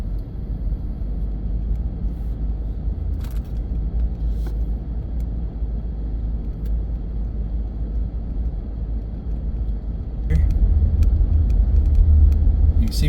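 A Ford F-250 pickup truck drives on a road in the woods after a winter storm, giving a steady low engine and tyre rumble throughout that swells louder near the end, with a few faint clicks and no talking.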